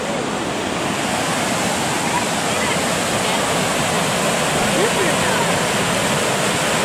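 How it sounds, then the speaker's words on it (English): A waterfall and rain-swollen river at Gooseberry Falls near Duluth, Minnesota, roar in a steady, loud, close wash of rushing water, with voices faintly present underneath. "River so big."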